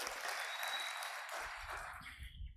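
Congregation applauding during a church Bible class, a dense sustained clatter of many hands that fades out over a couple of seconds.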